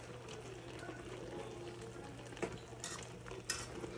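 A fork moves gently through brown stew chicken in a pot, making soft scraping and faint clinks over a low simmering hiss, with a couple of sharper taps and no talk.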